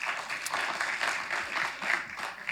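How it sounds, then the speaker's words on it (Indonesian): An audience claps for the young people at an event, a dense sustained round of applause that swells and dips slightly while continuing throughout. "Ya kita berikan sekali lagi aplaus buat anak-anak muda."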